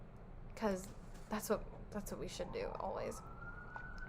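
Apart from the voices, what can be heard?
sirens passing outside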